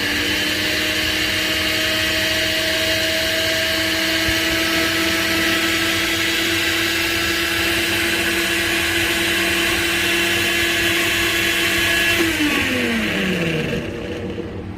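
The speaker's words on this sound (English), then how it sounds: "I'm just going to turn on the blender for a little bit and see what the wattage does." A blender running on a portable generator, a loud steady motor whine over the generator's drone that holds for about twelve seconds, then winds down as the blender is switched off.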